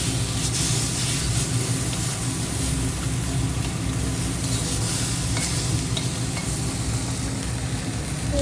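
Mola fish and eggplant cooking in a pan, a steady close sizzle with scraping stirs running continuously throughout, no voices.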